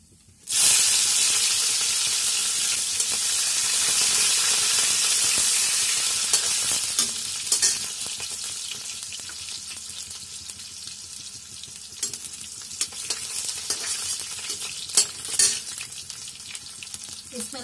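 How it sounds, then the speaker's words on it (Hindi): Whole spices and asafoetida hit hot oil in a pan while cooking, sending up a loud, bright sizzle that bursts in and stays steady, then settles into a quieter crackling fry with a few stirring scrapes. "हींग थोड़ा सा डाल देते हैं,"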